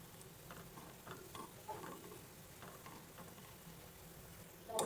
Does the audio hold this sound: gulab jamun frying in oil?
yes